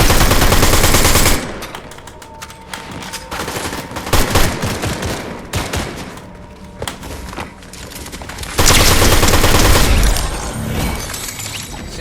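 Video game gunfire in bursts of machine-gun fire and single shots, loud at the start and again near the end with quieter stretches of shooting and thuds between.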